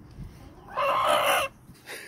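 A broody hen sitting on her nest lets out a loud, drawn-out, close-up squawking cluck, followed by a shorter second call.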